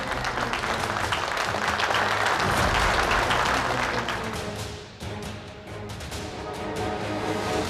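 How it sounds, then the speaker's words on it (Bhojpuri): An audience claps loudly for a kabaddi team being welcomed onto a village akhada. The applause is a continuous, energetic burst that swells, dips briefly, then picks up again. "उनका टीम के स्वागत करिए जोशीला छोकरा सन के जोरदार ताली के साथ"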